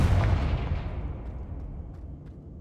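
A Confringo blast spell in a video game bursts with a loud explosive boom, then its rumbling tail fades away over a couple of seconds.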